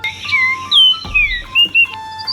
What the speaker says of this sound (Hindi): कार्डिनल की साउंड को पहचानते हैं?